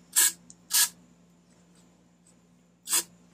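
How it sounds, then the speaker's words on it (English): Three short hissing bursts of carb spray aimed into a dirty Briggs & Stratton Classic L-Head engine on a Craftsman mower, two close together and one after a pause, each crisp and near against a faint steady hum. "I don't really make it a habit to spray carb spray in here"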